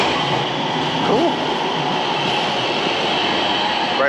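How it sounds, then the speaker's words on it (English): A Rotterdam tram rolls past on the street, giving a continuous loud rumble and hiss of wheels on rail, with faint city background under it. "Here's a look at the Rotterdam tram."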